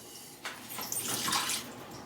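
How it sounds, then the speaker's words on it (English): Water pours off the top of pressed-down chili ingredients in a pot, a brief close splashing trickle that swells for about a second and then tapers off. "then you just pour the water off the top"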